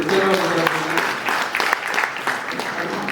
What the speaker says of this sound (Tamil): நான் உண்மையாக கைத்தட்டி ஆகணும்